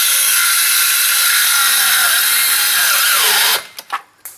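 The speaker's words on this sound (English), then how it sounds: "Line this saw up where I want to cut." A battery-powered circular saw whines steadily through a clamped wooden board for several seconds, loud and close, then spins down and stops, followed by a few brief knocks.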